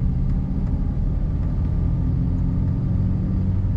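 A 1964 Lincoln Continental sedan in light blue idles smoothly with a steady, deep low rumble, close and even throughout with no revving.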